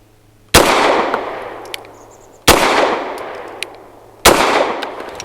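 Three sharp Grand Power K100 Mk23 pistol shots ring out at an outdoor range, each a loud, close crack followed by a long decaying echo, spaced about two seconds apart with no talking.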